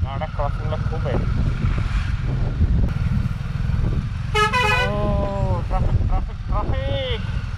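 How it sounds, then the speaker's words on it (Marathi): Road traffic with honking vehicles on a narrow road with road works under way, heard on the way to Goa: a steady traffic rumble with a cluster of loud, close horn blasts partway through, and people talking over it. "ट्रॅफिक आणि रस्त्याचं काम पण सुरू आहे अजून"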